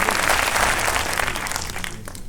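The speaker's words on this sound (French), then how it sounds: "Je vous demande de faire un tonnerre d'applaudissements pour nos programmateurs des Rencontres du Sud." Audience at the Rencontres du Sud festival applauding its programmers, a dense, loud burst of clapping that fills the moment and thins slightly toward the end.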